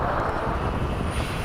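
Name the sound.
FMS F/A-18 electric ducted fan model jet flying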